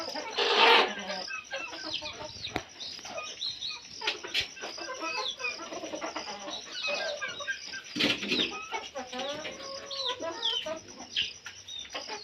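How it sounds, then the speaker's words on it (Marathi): A brooding hen settled on her eggs gives soft, close clucks and low murmuring calls in irregular bursts, with faint rustling and shuffling of straw between them. "कोंबडी अंड्यावरती कशा प्रकारे बसते ते बघा आता"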